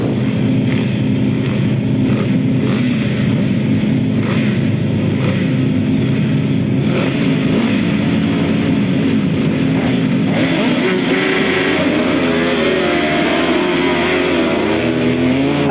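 Engines of 1000cc right-hand sidecar motorcycles drone and roar continuously as they race on a grasstrack, with a loud, steady, rough snarl that shifts slightly in pitch as the outfits come off the bend.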